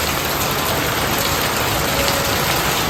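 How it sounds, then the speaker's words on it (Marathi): Heavy rain pours down in a dense, steady, loud roar of drops striking surfaces, with no voices. "भयंकर जोरात पाऊस लागतोय"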